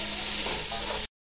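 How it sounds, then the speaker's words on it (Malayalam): Onions sizzle steadily as they are fried in a pan for a rice dish, a close, bright, continuous hiss with light stirring, cut off abruptly at the end. "രണ്ടുള്ളി വയറ്റും ചെയ്തു."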